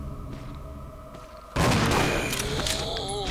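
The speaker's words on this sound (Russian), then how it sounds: "Зачем ты стреляешь, если стреляю я?" Gunfire in the video game Resident Evil Zero, a loud burst of shots that erupts abruptly after a quiet stretch and keeps rattling for the rest of the moment.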